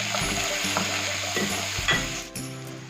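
Onions sizzle steadily in hot oil while making upma, a constant frying hiss with occasional scrapes of a spoon stirring the pan.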